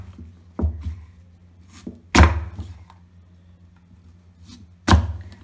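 Knife chopping mango pieces for pickle on a cutting board, three sharp distinct thunks spaced apart, with softer small knocks between them, close and otherwise quiet.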